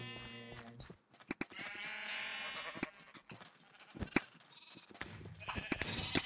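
Sheep in the Minecraft video game bleat repeatedly in short, nasal calls, several overlapping at close range, with some talking in between.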